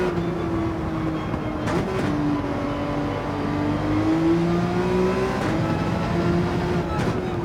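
A race car engine in the Gran Turismo 7 video game, revs dropping under braking then climbing steadily as it accelerates again, loud and up close with a brief gear-change blip.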